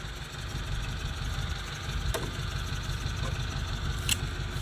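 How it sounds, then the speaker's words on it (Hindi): A loaded Indian truck's engine idling rough with a misfire, a steady low mechanical drone carrying faint irregular sputters and knocks, close and moderately quiet with no talk. "फटी फटी आवाज़ हो रही है गाड़ी की।"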